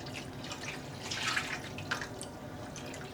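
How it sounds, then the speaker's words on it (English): Liquid dye poured into a small pan holding about two liters of water, heard as soft trickling and dripping splashes that peak midway, faint and close with no voices. "And we're adding in the dye."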